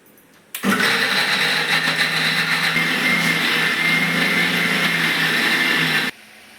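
A mixer grinder purees tomato, onion, garlic and coriander, starting abruptly into a loud, steady, high whirring motor whine that runs for about five seconds and then cuts off sharply.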